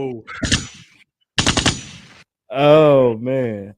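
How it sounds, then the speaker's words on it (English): Rapid bursts of gunfire come in two tight clusters of loud, close shots, followed by a drawn-out voiced tonal sound. "I need them gunshots to be louder in my headphones."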